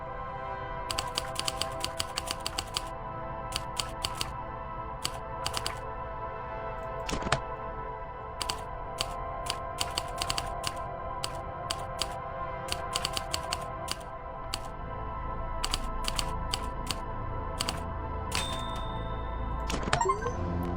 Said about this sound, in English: Let me just type extra notes.